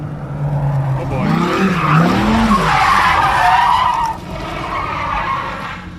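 Dodge Hellcat tires spinning and skidding in a long, loud squeal with wavering pitch, engine roaring beneath, heard alone without talk.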